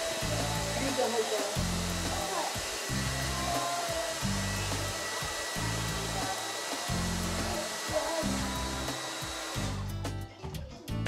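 A Nanocare hair dryer drying hair runs as a loud, steady blowing whoosh close by, with a regular low pulsing under it, cutting off near the end.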